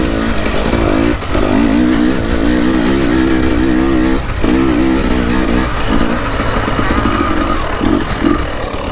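An enduro motorcycle ridden by an amateur around a hard, rutty course, its engine droning loud and close throughout, revving up and down in surges with brief dips between throttle bursts and faint clatter from bumps.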